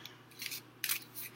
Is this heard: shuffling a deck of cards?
yes